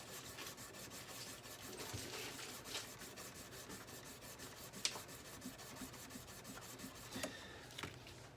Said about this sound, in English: I'm going to keep polishing this till I get this fret done